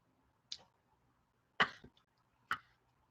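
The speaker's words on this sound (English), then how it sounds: "It made me cough." Three short, separate coughs from a woman, with a quiet pause between each, close to the microphone in an otherwise quiet room and with no talk over them.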